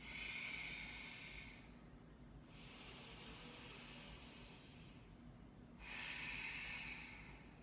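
Slow, deep breaths taken during a yoga forward fold, each long airy inhale and exhale rising and falling in turn, close and quiet with no talking.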